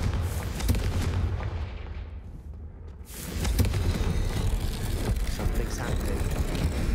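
A Confringo blasting spell explodes in a video game, a dense, loud roar of booming blasts that dips briefly before a second big burst surges back and rumbles on.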